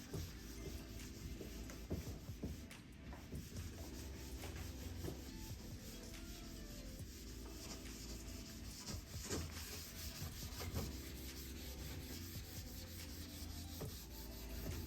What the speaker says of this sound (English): give it a buffing. What this does is just helps smooth out the wax, gives it a nice polish.